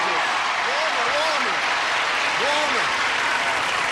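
Studio audience at a taped game show applauding to welcome the celebrity panel, a steady dense wash of clapping throughout, with a voice rising briefly over it.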